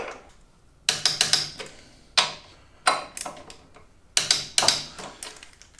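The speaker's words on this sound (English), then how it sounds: "So now we can just go ahead and get this tightened up. We'll get it torqued down" Steering box bolts on a dune buggy being tightened and torqued with a ratchet, close bursts of rapid sharp metallic clicks in short groups separated by brief pauses, with no voices.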